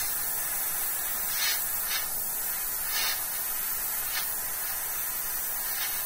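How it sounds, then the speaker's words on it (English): Airbrush spray hisses steadily while highlights are laid onto a Batman prototype model figure, a continuous close broadband rush with brief louder bursts of spray every second or so, no talking. "And I can overlap some of these other areas I spray too."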